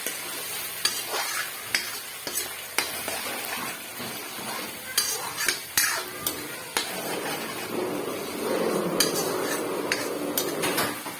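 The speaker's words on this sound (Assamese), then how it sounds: "এইখিনিও অকণমান আকৌ মই ভালদৰে ভাজি থাকিম, যেতিয়ালৈকে বিলাহীৰ কেঁচা গোন্ধটো নাযায়।" Tomatoes with mustard fry in a pan, stirred with a utensil that scrapes and taps the metal in a steady rhythm over continuous sizzling, which swells louder near the end.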